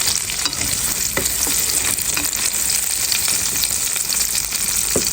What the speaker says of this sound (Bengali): এখন আমি মাসকালাই বড়াটাকে ভাজা নিতেছি তেলের মধ্যে। আর এটা একটু বেশি তেলে ভাজতে হয়